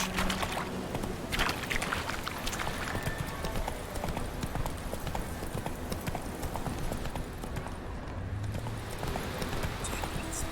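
Hooves of the horse Roach clop rapidly at a gallop in The Witcher 3: Wild Hunt, a steady rhythmic pounding under ambient game sound, fairly faint and continuous.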